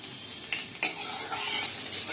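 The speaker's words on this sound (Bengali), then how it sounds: "উচ্ছে ভাজা হচ্ছে" Bitter gourd fries in oil in a kadai, giving a steady close sizzle broken by a couple of sharp scraping stirs.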